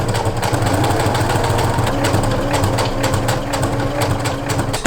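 A sewing machine stitches a zigzag seam on sweatpants made from a camo bedsheet, a close, steady motor whir with a rapid mechanical needle chatter running without pause.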